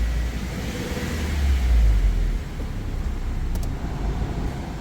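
A Subaru Outback with 117,000 miles, its AC running, idles and then revs as the gas pedal is pressed: a close engine drone swelling briefly louder, then settling back to a steady hum.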